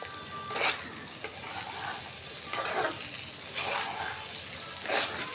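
Rice fries in oil in a pot for khichuri, a steady hiss of sizzling broken by about five rhythmic scraping strokes of a spoon stirring the grains, heard up close.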